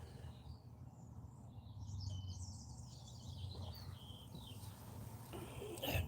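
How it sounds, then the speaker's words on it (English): Birds chirp and twitter outdoors at a moderate distance, with scattered calls over a low, steady background rumble. "listening to the birds"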